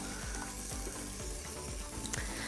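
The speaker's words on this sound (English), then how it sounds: "we're just gonna cook up the steak now" Steak frying in olive oil in a hot pan gives a steady, dense sizzle with faint crackles, close and continuous throughout.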